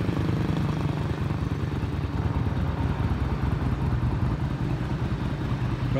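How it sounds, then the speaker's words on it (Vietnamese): A 170cc Super Harley motorcycle engine runs steadily at idle, a continuous close rumbling chug with no talk over it. "đó, nó đang nổ máy nha các anh."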